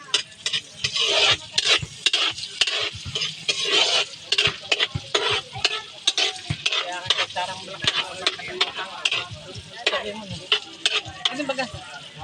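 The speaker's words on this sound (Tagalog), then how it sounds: "Si Ninang Malo ay magigisa na ng pansit. Nilagay na yung bawang at saka sibuyas." Garlic and onion sautéing for pancit in a pan, a steady loud sizzle broken by frequent scraping and clinking of a utensil stirring against the metal, continuous close-up kitchen sound with no talk.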